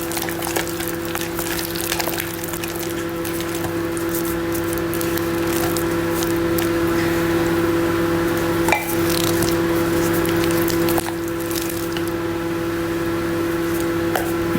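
Melted mozzarella is stirred inside a Thermomix, giving a steady soft squelching and wet churning under a constant machine hum, with a few small clicks and scrapes and no talk.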